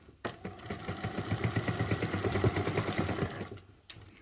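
A sewing machine stitches fabric binding in one steady, close run, its fast rhythmic mechanical chatter starting abruptly and stopping near the end, with no talking.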